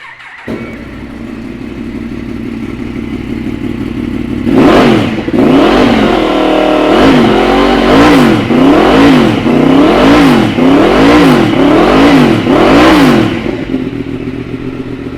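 A 2016 Yamaha MT-10 motorcycle engine starts up and idles, then is revved repeatedly in quick, rhythmic blips, close and loud.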